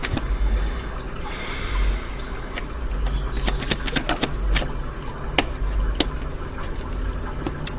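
Tarot cards shuffled and drawn for a reading, with a run of crisp, sharp snaps and flicks close up over a steady background hum, no voice during the handling.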